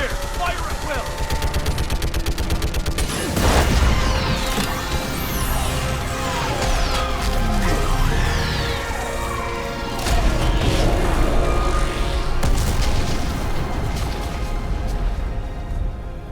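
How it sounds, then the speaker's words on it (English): Orbital strike explosions pound a live Reaper in Mass Effect 3, heavy booms and rumbling blasts erupting repeatedly over a steady mechanical drone, with characters talking over the barrage. "I need an orbital strike. We're clear! Fire at will!"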